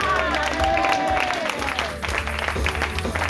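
A church congregation applauding and cheering, a dense sustained wash of clapping and crowd voices, with music and a voice carrying above it.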